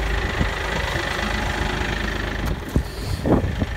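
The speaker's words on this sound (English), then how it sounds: "Actually, I'm gonna fire it up and I'm gonna show you something really cool that I like. It's a very smooth running tractor." A Kioti 5310 compact tractor's diesel engine idles steadily nearby, a continuous low rumble with a few louder bumps near the end, with no talking.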